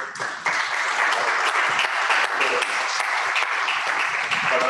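Steady applause from an audience at an international history congress, dense and sustained from start to finish with no talk over it.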